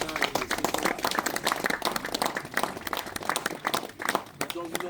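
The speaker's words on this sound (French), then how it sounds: "je vous propose qu'on applaudisse, qu'on remercie les traqueurs et les chiens pour le travail fait ce matin et ce soir." Hunters at a hunt in Alsace applaud the trackers and dogs outdoors, a close, lively patter of many hands clapping that rises and dips over several seconds, with some voices mixed in.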